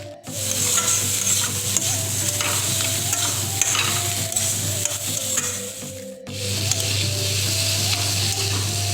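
Panch phoron spices and salt frying in a pan in a home kitchen make a loud, steady sizzle with constant stirring scrapes and a low steady hum beneath, with one short break partway through.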